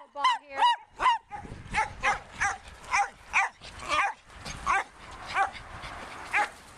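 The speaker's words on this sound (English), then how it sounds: "He will literally bark through this entire thing." A dog barks over and over in a regular rhythm of sharp, close barks during a game of fetch with other dogs, about a dozen barks with yips mixed in.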